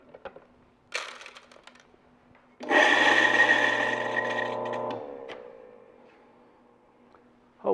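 Coffee beans grinding in a small grinder, with a steady loud burst lasting a couple of seconds, set between quieter clicks and handling sounds before and after.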